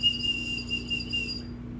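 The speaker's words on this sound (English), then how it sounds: "We have a turkey bone whistle," A turkey bone whistle sounds a thin, high steady tone held for just over a second before cutting off, fairly faint against a low background hum.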